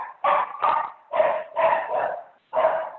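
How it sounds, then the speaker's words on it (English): Several dogs barking indoors in a home, a run of six loud, sharp barks in uneven rhythm with short gaps, close by and alone without talk. "I apologize for the dogs."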